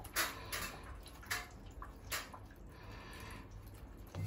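Water dripping from a leaking upper floor trap in a badly leaking bathroom, a few faint irregular drips and splashes over a steady wet background hiss.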